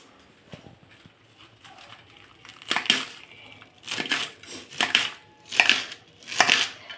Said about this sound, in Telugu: ఇప్పుడు తోటకూరని నరికేస్తున్నాను.